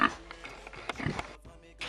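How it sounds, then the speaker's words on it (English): Pigs on a farm in Jamaica give a few faint, short grunts in a quiet two-second stretch with light background noise. "We're now on our way to see the pigs."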